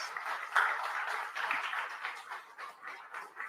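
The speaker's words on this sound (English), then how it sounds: "I think they deserve a round of applause." Conference audience at the 10th Biennial Global Jamaica Diaspora Conference giving a round of applause, moderately loud sustained clapping from many hands filling the room for several seconds.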